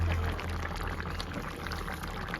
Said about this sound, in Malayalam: ഇതിൽ തേങ്ങാപ്പാൽ ഒഴിക്കാൻ പോകണം.